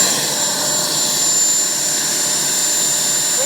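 Turbine engine of an FMS Avanti 90mm RC jet running steadily during braking and landing, a loud continuous hissing whine with a high tonal edge, close and unbroken.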